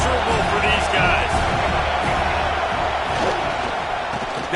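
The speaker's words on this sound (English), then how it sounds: "This crowd going to try to make life miserable for these guys." Stadium crowd in an NCAA college football video game, a steady, dense roar of many voices that holds at a constant loud level throughout, with no clear speech on top.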